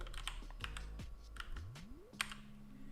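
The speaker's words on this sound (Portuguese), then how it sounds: "Se eu digitar agora a mesma palavra, pessoal, React, só que de forma mais lenta, olha." Keys on a computer keyboard are pressed slowly, one at a time, giving a handful of crisp, separate clicks at an unhurried, uneven pace in a quiet room.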